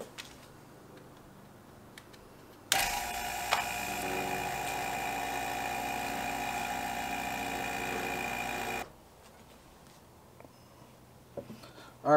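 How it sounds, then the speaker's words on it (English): A vacuum pump on a vacuum chamber, degassing liquid plastic for hand-poured swimbaits, switches on abruptly and runs with a steady, loud mechanical drone for about six seconds, then cuts off into quiet. "then we'll throw it in the vacuum chamber"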